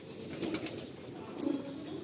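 Pigeons cooing in a home loft of hens and young birds, low rolling coos close by with faint rustling and no speech.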